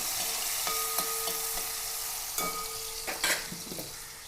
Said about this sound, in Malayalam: നമുക്ക് ഒന്ന് താളിച്ചെടുക്കാം ഉള്ളിയും വെളുത്തുള്ളിയും രണ്ട് പച്ചമുളക് ഇട്ടിട്ടുണ്ട്